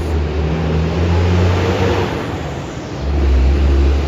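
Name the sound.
big trucks driving past on a New York City street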